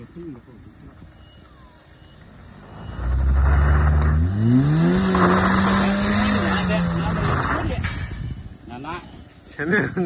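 A Ford off-road vehicle revs hard and spins its tires in sand, the engine note climbing and holding loud for several seconds. Voices talk over and around it.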